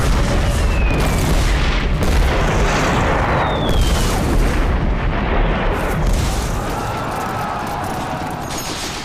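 World War I artillery guns firing in a heavy, continuous barrage, booms rolling over one another into a loud, dense roar with no pauses.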